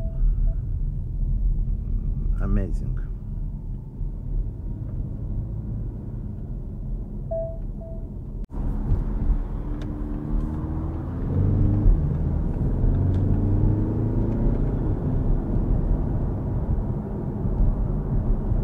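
A 2025 Audi A5 Avant 2.0 TDI mild hybrid diesel rolls over potholes, heard from inside as a steady low road rumble and tyre drone with a few soft thumps, a short spoken exclamation early on.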